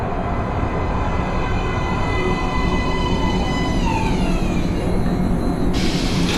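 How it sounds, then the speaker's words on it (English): Metro train in Metro Last Light rolling into a platform: a loud continuous rumble with high metallic wheel squeals that bend downward as it slows, and no talking. "Please step away from the edge of the platform. Train coming in."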